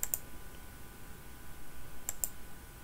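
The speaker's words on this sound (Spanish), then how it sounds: "Clic con copiar." Computer mouse clicks in drawing software: two quick pairs of sharp, faint clicks, one at the start and one near the end, set apart by quiet room hiss.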